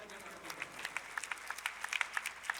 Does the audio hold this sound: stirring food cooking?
no